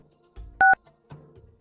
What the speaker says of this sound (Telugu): ఈ మహేష్ గారికి ఫోన్ చేద్దాం, అసలు బయలుదేరాడో లేదో.